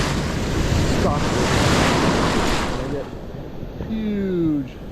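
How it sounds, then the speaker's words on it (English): Surf roars and crashes close by with heavy wind buffeting, then eases briefly as a voice speaks near the end. "set of waves coming"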